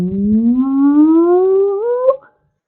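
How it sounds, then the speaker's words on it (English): An acoustic measurement sweep signal used for room sound insulation testing glides smoothly upward from low to high pitch over about two seconds, loud and alone with strong harmonics, then stops abruptly. "So then you send out this, it's called an impulse response."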